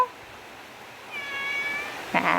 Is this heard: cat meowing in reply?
yes